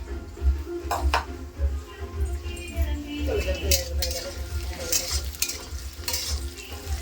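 Pots of dal and cabbage cook on an outdoor gas stove, with steady frying sizzle, stirring scrapes and occasional clinks of utensils against pans, while people talk faintly in the background.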